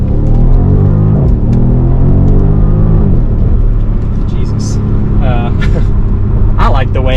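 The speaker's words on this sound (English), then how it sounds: "The exhaust is being kind of artificially pumped inside of the cabin." A 2018 BMW M550i xDrive exhaust note heard from inside the cabin, a steady low rumble that rises in pitch as the car accelerates, and someone talks over it throughout.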